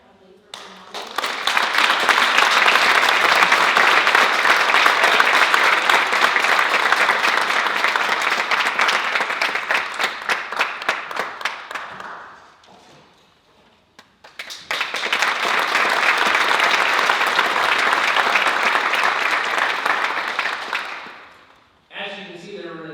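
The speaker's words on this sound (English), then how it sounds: "Please join me in applauding Kaya Huntley for being nominated." An audience at a county youth awards ceremony applauding a nominee, sustained clapping in two long bursts separated by a brief quiet pause, full and close.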